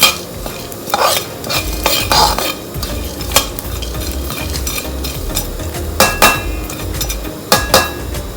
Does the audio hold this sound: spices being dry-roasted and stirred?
yes